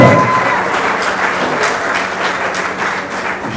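Audience applause at an awards ceremony honouring a foundation: a sustained, loud wave of many hands clapping that stays fairly even, thinning slightly toward the end.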